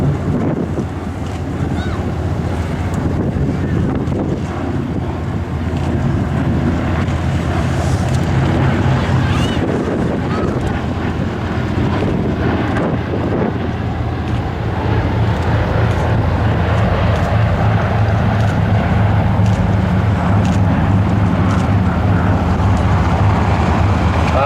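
A B-29 Superfortress named Fifi makes a photo pass at a World War II Weekend demonstration, a loud, sustained engine roar heavy with wind buffeting on the microphone, rising slightly toward the end.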